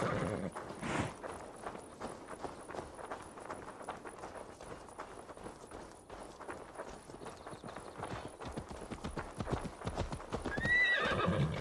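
Steady clip-clop of horse hooves trotting on hard ground in a video game, ending with a loud whinnying neigh; no talking.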